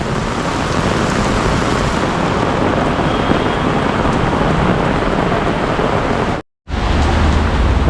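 Heavy unseasonal rainfall in Mumbai or Thane hisses loudly and continuously, close to the microphone and densely textured, cut by a sudden silent gap of about a quarter second near the end before the downpour resumes.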